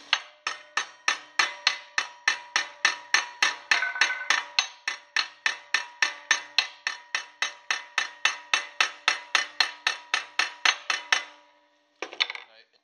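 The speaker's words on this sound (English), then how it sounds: "to do that we're going to use a heavy hammer" A heavy hammer strikes mild steel in a steady, ringing rhythm, bending a stove shovel with dozens of loud blows one after another, then a brief pause and a final scrape.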